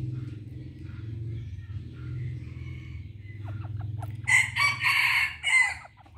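Fighting roosters crow loudly and close, several drawn-out calls in succession over a steady low background hum.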